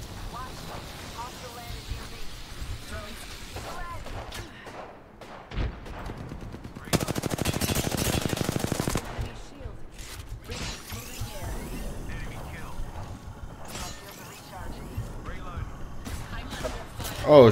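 Gunfire in a video game battle royale match, bursts of shots breaking out around the player with a dense, loud volley in the middle, mixed with game effects while someone talks throughout.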